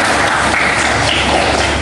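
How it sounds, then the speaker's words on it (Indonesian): A classroom group applauding a student, dense close clapping that stays steady throughout. "Tepuk tangan untuk teman kita."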